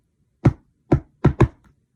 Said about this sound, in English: He had just shut his eyes when there was a knock at the door.